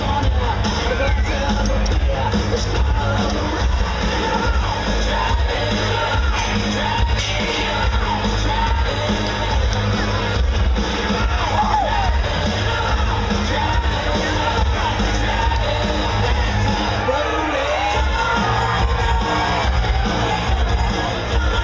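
Loud, steady crowd noise with yells, whoops and cheering fills a demolition derby arena at Kamas in 2011, with booming bangs and a constant babble of voices throughout.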